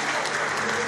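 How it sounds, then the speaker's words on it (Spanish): Wedding guests applaud during a vow renewal ceremony, a short, steady burst of dense crowd clapping. "Un pequeño aplauso mientras se prepara."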